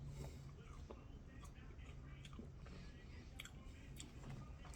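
Someone biting and chewing a crispy McDonald's fry up close, soft crunches and mouth sounds that come faint and intermittent over a quiet room.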